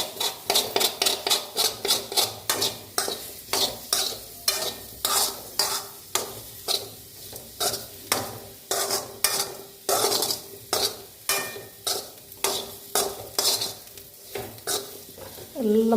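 Masala with tomato and bitter gourd is stirred in a frying pan in a rhythmic series of scraping strokes, roughly two per second, over a close, steady sizzle, with no one talking.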